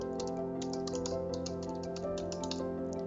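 Quick, steady typing of a domain name on a computer keyboard, with a dense run of light key clicks close up over a faint hum.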